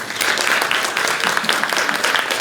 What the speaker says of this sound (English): I do want to just give her a round of applause